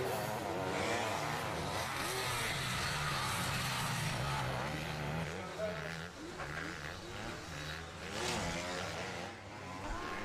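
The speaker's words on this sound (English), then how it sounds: "it's the bike sounds quieter. Like it's not revving enough" A motocross bike engine drones and revs steadily throughout during a race, its pitch wavering up and down, with a voice talking faintly over the engine noise.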